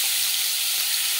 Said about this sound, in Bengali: প্রথমে আমি পনিরগুলো ভেজে নিচ্ছি।